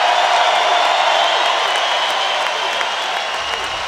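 The home crowd at Carver-Hawkeye Arena roars and applauds for an Iowa wrestling champion at the 2016 Big Ten championships, a loud, sustained wash of cheering and clapping that fades slightly toward the end.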